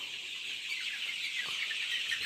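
Young Sonali chickens about 27 days old on a poultry farm, clucking and chirping steadily as a dense flock, fairly close and continuous, with no talk over them.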